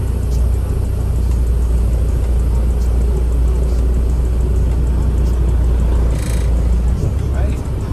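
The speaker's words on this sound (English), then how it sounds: "Feel that tug into that torque in the engine and in the cab" A semi truck's diesel engine strains against the set trailer brake during a pull check, a heavy, steady low rumble close up inside the cab, continuous and loud throughout the clip.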